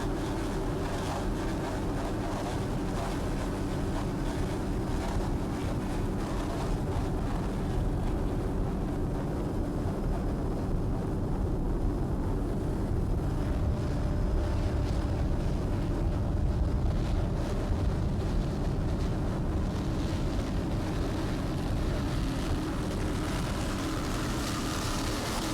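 A 38-foot cigarette offshore racing boat runs at speed on open water in a race, giving a continuous loud roar mixed with wind buffeting that stays steady throughout.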